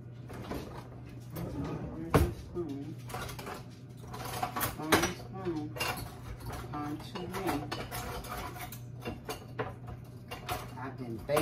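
Ranch being stirred into a snack dip in a home kitchen, with steady scraping and clinks of a utensil against a bowl, plus low background noise and occasional thumps.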